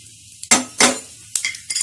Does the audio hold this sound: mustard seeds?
yes